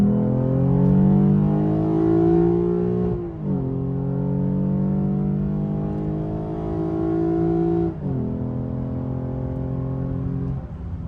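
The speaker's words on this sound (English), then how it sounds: "I'll do a quick 40 to 100 for you guys here." A tuned 2017 Lexus IS 350 with an RR Racing tune pulls hard from 40 to 100, its engine note climbing steadily through the revs with two quick upshift dips, loud and close from inside the cabin.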